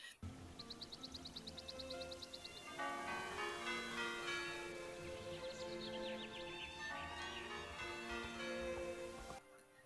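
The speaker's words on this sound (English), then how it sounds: "you've heard the signature bell toll from the clock tower" Clock tower bells in the video game Star Stable chime a melodic tune, starting with quick high ringing strikes then a fuller sustained peal layered with resonant tones, fairly distant and steady.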